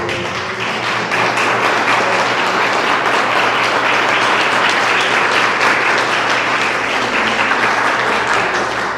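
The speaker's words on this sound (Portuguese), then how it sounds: "a salva de palmas me encoraja muito" A church congregation applauds with loud, continuous clapping that fills the whole stretch at an even, close level, with no talking over it.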